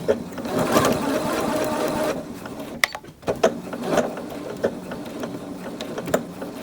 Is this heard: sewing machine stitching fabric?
yes